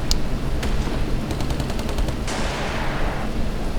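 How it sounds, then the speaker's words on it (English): Panther tank machine gun fire in the Sudden Strike 3 war game, a fast rattling burst of rounds over loud battlefield rumble, followed by a dense roaring blast. "the Panther is not out of machine gun bullets"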